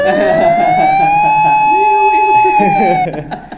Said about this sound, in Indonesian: Ambulans lewat.